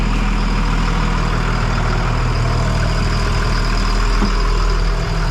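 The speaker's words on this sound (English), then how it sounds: "this thing has been sitting here idling for 5 minutes now. This thing sounds great." A Cummins-powered service van bought at auction sits idling, its engine holding a steady, loud, low rumble without change, and no voices are heard over it.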